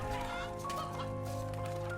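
Chickens cluck in the MediEvil video game, a short burst of fowl calls over a steady, tonal game background hum.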